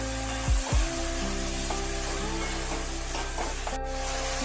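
Ridge gourd with onion and tomato being stirred in a frying pan, a soft continuous sizzle with occasional scraping stirs over a steady low hum, close and moderately quiet.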